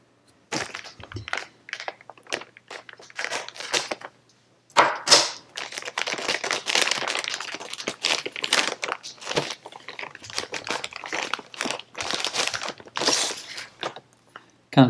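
Packaging of a CanaKit Raspberry Pi 3 B+ kit being unwrapped and opened, close bursts of plastic crinkling, crackling and tearing with brief pauses and a few small knocks.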